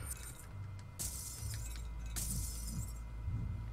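Smashing an antique grandfather clock in the Spider-Man: Friend or Foe video game, Bran Castle level: two loud crashing shatters about a second apart over a low, steady game hum.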